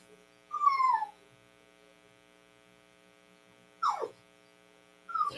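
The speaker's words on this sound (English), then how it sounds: "I'm sorry if you can hear my dog, Boo's out there" A dog named Boo whimpers from outside in three short, thin whines, the first longer and the next two clipped, faint and distant over a steady electrical hum.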